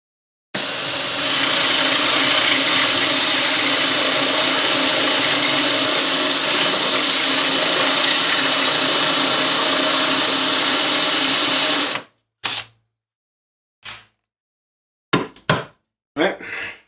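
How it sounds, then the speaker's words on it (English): A cordless drill fitted with a right angle adapter runs in one long steady whir of about eleven seconds, followed by a few short bursts. "I had to run out to Harbor Freight and buy a right angle adapter because I couldn't get my drill through"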